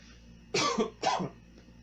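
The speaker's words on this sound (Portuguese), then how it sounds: "Tossinha." Two short, soft coughs in quick succession, close by, with quiet room tone around them.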